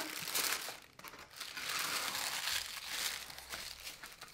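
A Christmas planner gift box is opened and unwrapped up close, with steady crinkling and rustling of wrapping and packaging, a few tearing bursts, and no talk.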